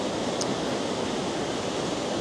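Lower falls on Vancouver Island pour with a steady, broad rushing roar of falling water, constant and fairly close, with no voices.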